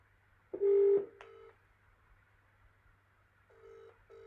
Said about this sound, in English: we're going to get him on the phone